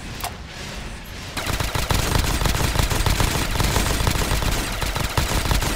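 Rapid, dense automatic gunfire from Call of Duty Zombies, the Space Tower map, starts after a quieter opening and continues as a loud, sustained burst of overlapping shots.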